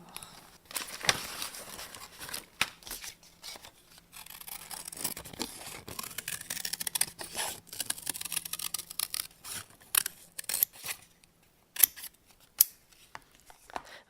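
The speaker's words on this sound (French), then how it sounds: "je prends des ciseaux et je découpe ma forme" Scissors snip through paper to cut out a shape for a leather craft pattern, a quick run of crisp, close cuts with brief pauses and paper rustling in between.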